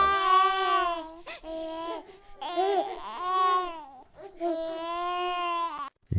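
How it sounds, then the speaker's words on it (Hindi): Crying and sobbing in a horror story setting: a high, wailing childlike cry rises and falls in long sustained sobs, loud and close, with brief breaks between wails and no talking. "कहीं से खिलखिलाने की आवाज, कहीं से रोने की आवाज।"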